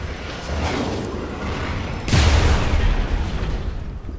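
A single loud gunshot fires in the Wolfenstein video game, a sharp boom with a short rumbling decay over steady game background noise.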